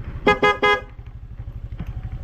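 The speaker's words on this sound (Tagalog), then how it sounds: "Nandito na yung motor ni Halpok eh" A motorcycle pulls up on a farm, its engine putting steadily underneath as the horn gives three short, loud honks in quick succession, then the motor keeps idling nearby.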